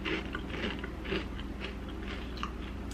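Biting and chewing crunchy battered fried potato, close-up crisp crunches repeating steadily at a chewing rhythm, loud against a low room hum with no talk.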